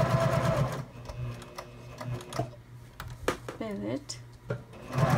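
A sewing machine stitches a zipper pouch for sunglasses, its motor whirring in short bursts near the start and end, with pauses and a person talking in between.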